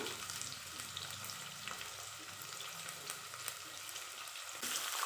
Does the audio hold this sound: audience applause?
no